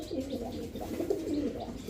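Pigeons at a market stall in a coop, cooing in soft, low, rolling throaty calls that repeat close by under a quiet background.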